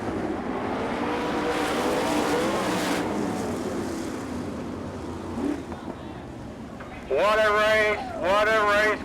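Sprint cars racing at Bloomington Speedway, Indiana, in an All Star Circuit of Champions event. Engines drone steadily under a track announcer, and a louder car engine revs twice close by near the end.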